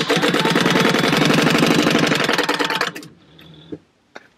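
A home sewing machine stitches along fabric card-slot pieces for a purse, a loud, steady rapid needle rattle for about three seconds, then stopping, followed by a few faint handling clicks.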